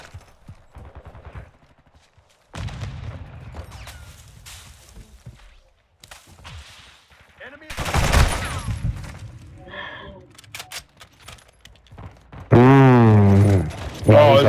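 Gunfire from Call of Duty Modern Warfare 2 crackles in short bursts and single shots, loud and close, mixed with game effects and a sudden loud burst near the end.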